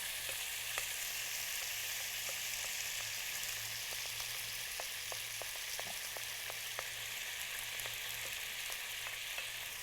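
Vegetables sizzle in a hot pan with a steady hiss and scattered small pops, fairly quiet and close, with no voices.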